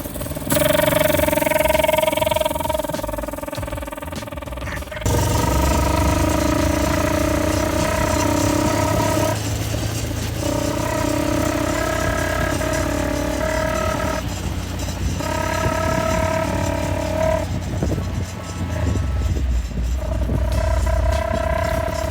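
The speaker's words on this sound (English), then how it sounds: "We got the trumpet exhaust all put together, and this is the first time we get to see if it actually works." A small go-kart engine fitted with a custom trumpet exhaust runs steadily with a strong honking, horn-like tone, loud and close, pitch dipping and rising briefly as it revs.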